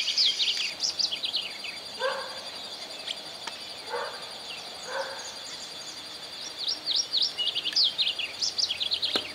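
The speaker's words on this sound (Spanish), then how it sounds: "En las arboledas que rodean los bosques se pueden ver varias aves." Wild birds singing in the groves around woodland near Santa Fe, Argentina: high, quick chirps and trills that come and go across the clip, with a few lower calls in between, fairly close and clear over a quiet background.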